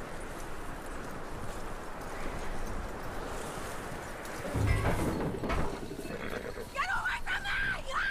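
Hollow hoof clip-clops of a horse in Red Dead Redemption 2 plod along over a dense outdoor ambience, with a louder thump midway and a brief high tonal cry near the end.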